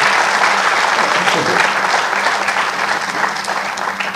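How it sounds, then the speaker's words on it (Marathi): An audience applauding after a talk: dense, sustained clapping from a large crowd, loud and continuous for the whole four seconds and easing slightly toward the end. "आणि या तुमच्या टाळ्या बहुतेक पुण्यात त्यांना ऐकू गेल्या असतील"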